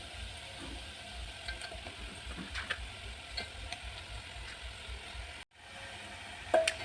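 Tomatoes frying in a pan with onion, garlic and ginger give a steady close sizzle with a few faint stirring clicks, then a brief drop in level before the frying carries on.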